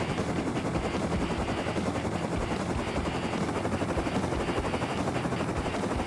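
Helicopter in the video game Rust flying steadily, its rotor thudding in a constant dense beat with a loud engine roar that fills every moment without a break.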